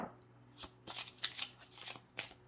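A deck of tarot cards shuffled for a spirit-message reading, with quick papery riffles and soft slaps coming in several bursts, close and clear over a quiet room.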